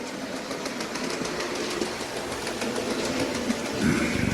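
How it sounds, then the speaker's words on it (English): A Hornby Black 5 OO gauge model locomotive runs around a third-radius circuit layout, its wheels giving a light, continuous clicking rattle on the track at close range. "the normal rattling of the wheels on the tracks with my layout"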